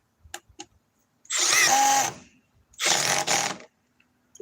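A Milwaukee Surge impact driver drives a screw in two loud whirring bursts about a second long each, separated by a pause, with faint clicks and handling noises around them and no talking.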